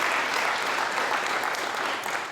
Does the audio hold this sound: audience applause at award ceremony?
yes